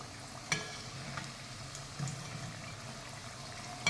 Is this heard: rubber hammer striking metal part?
no